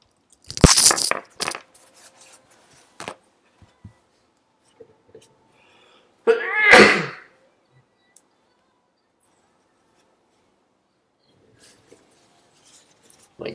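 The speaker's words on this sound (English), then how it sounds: "I'm gonna have to sneeze." A single forceful sneeze bursts out after a stretch of quiet, preceded by a few scattered taps and small handling noises.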